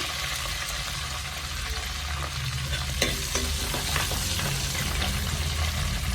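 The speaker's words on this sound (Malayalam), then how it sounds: "കടുക് നന്നായിട്ട് പൊട്ടിത്തുടങ്ങി കറിവേപ്പില ഇട്ട് കൊടുക്കാം" Mustard seeds and curry leaves sizzle and crackle in hot oil while preparing a Kerala mackerel chilli fish curry, a steady close hiss dotted with sharp popping bursts, no voices.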